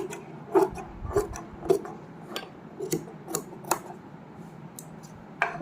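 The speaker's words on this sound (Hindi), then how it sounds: "अब ये जो एक्स्ट्रा कपड़ा है इसकी कटिंग कर देंगे" Scissors snipping extra fabric from the inner lining of a heavily hand-worked suit, a series of short, close, crisp cuts with small pauses between them.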